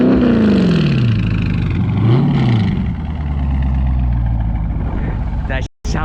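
A Scat Pack V8 muscle car engine revs loudly, heard from outside, its pitch sweeping up and down in a couple of throttle blips before settling into a deep idle.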